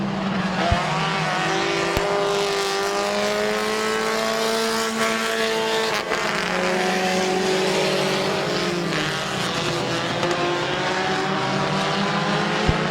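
Race cars roar around the oval at Midvale Speedway, a loud sustained engine drone with several cars passing close and pitch rising and falling through the laps, no talk.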